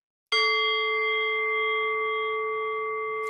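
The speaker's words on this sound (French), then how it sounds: "un petit coup de gong pour commencer." A gong struck once to open a meditation session rings out with a sharp attack and a long, steady, shimmering resonance that sustains loudly and decays only slightly over several seconds, alone without speech.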